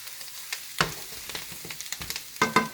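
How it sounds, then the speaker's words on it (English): Roasted root vegetables tossed in a pan, sizzling steadily with repeated close scraping and clattering strokes as they are moved around, no voices. "Now we're just going to toss in the pan"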